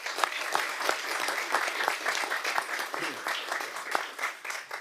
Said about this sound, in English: Let's give Harley and Killian another round of applause.